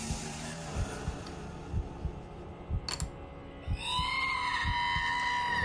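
A scream rises in the video game F.E.A.R., a shrill, wavering wail that swells near the end over a heavy throbbing heartbeat-like pulse and a dense droning background.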